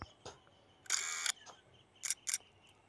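Camera shutter transition effect from the InShot editing app: a few crisp mechanical clicks and bursts, one longer snap followed by a quick double shutter, fairly quiet and alone.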